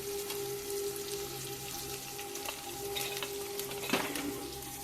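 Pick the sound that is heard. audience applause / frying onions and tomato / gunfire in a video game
frying onions and tomato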